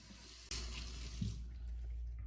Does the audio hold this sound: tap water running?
yes